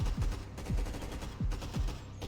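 Gunfire in the Minecraft video game sounds as four quick, faint bursts of rapid shots, evenly spaced over about two seconds.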